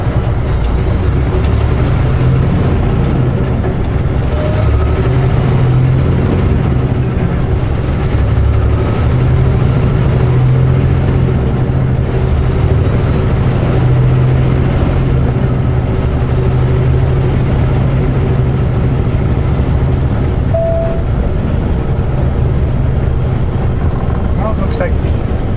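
A truck engine pulls a trailer, making a constant loud low rumble and drone that stays even throughout the clip, with no distinct breaks.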